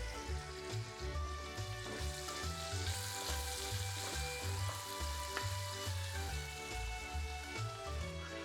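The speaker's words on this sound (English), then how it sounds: "Now it's time to add the onions. Get them cooking." Onions fry in a pan for a seafood dish, a steady soft crackling sizzle with a faint rhythmic stirring underneath, no talk.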